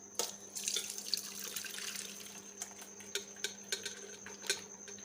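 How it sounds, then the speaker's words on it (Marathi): Cooked dal and its water are poured into a sieve set over a pot, a soft trickling splash at first, then scattered faint drips and light taps, fairly quiet. "आणि याच्यात आता आपण ही डाळ शिजलेली डाळ टाकून घ्यायची आहे"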